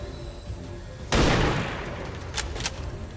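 Gunfire from soldiers in the XCOM 2: War of the Chosen strategy game: a loud burst of shots erupts about a second in and rings out with a decaying tail, followed by two shorter sharp cracks, over a steady low game background.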